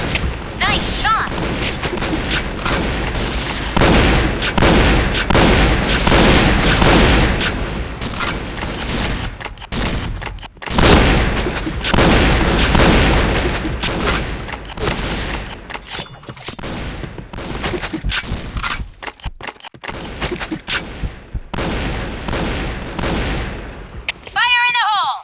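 Shotgun fire in the online shooter Point Blank, heavy blasts and crackling volleys repeating densely and loudly through the stretch, with brief lulls, mixed with game voice callouts.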